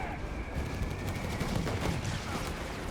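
Browning light machine gun fire in the World War II strategy game Company of Heroes 3, dense continuous crackling gunfire mixed with a steady battle din.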